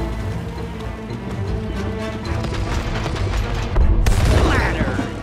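Cannon fire in a space video game, a rapid volley of loud blasts and crashing impacts ending in a heavier boom, with game noise underneath.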